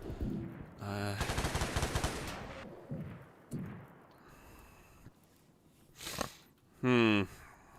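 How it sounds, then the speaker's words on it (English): Shotgun blasts in the sci-fi colony game Rimworld Odyssey ring out as sharp bursts amid a rapid volley of gunfire, with a few scattered shots and a final loud blast; someone talks over the action. "Oh, you've got a shotgun."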